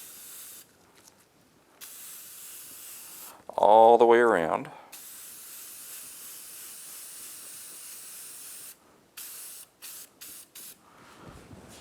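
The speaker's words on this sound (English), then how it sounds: "spray an even surface" A loud burst of PJ1 foam filter oil spraying onto the foam air filter of a Honda TRX350 Rancher ATV hisses for about a second, then a quieter steady hiss continues with brief interruptions and a voice speaking.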